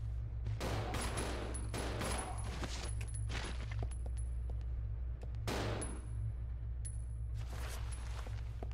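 Bursts of gunfire from the GameCube game Resident Evil Zero, loud volleys and single shots repeating irregularly over a steady low game hum, with sharp tonal pings between them.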